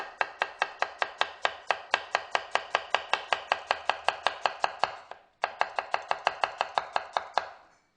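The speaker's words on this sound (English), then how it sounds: "And then when you slice it up," An onion, core cut away, sliced with a knife on a board: about thirty crisp, evenly spaced chops in a steady rhythm, one brief pause near the end, close and clear with no talk.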